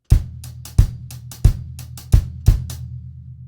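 A drum kit plays the bar 6 groove of a song: five strong kick-and-snare hits with a resonant low tail, interleaved with lighter hi-hat strokes, close and clear, without voices.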